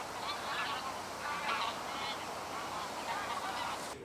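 Geese honk repeatedly at a distance, faint and outdoors, with a few overlapping calls over a soft background hiss.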